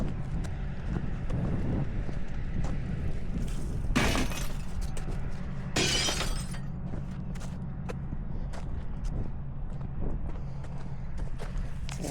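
Glass chunks from a burnt-out car wreck clatter and shatter as they are handled during roadside cleanup, with two loud crunching bursts amid steady outdoor noise.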